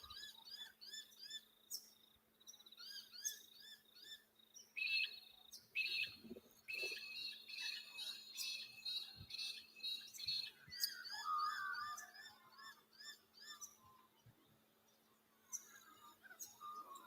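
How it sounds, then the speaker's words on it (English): Birds chirp and trill outdoors at a caravan site, with rapid repeated tweets and a few fuller songs overlapping at moderate distance over a faint steady hum, with no talking. "Hear the birds?"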